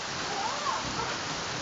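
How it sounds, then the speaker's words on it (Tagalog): Hail falling steadily during a storm, a continuous dense hiss of ice pellets pattering on surfaces, fairly loud and even throughout with no pauses. "Umuulan pa rin ng yelo, grabe."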